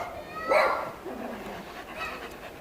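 A dog behind a fence in a park gives one sharp bark close by, then whimpers and yips at a lower level. Background noise and a faint voice sit underneath.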